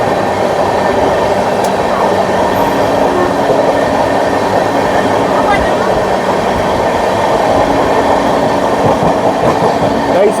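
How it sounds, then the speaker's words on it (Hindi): The Sikkim Mahananda Express overtaking on a parallel track, heard from inside a moving train as a loud, continuous roar of wheels and rattling carriages, steady throughout the clip. "ये हो रहा सिक्किम महानंदा का ओवरटेक, बहुत बढ़िया वाला।"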